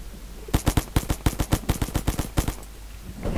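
Rapid bursts of automatic gunfire from zombie shooting in the video game Zumbi Blocks 2, a dense string of loud sharp shots for about two seconds before tapering off.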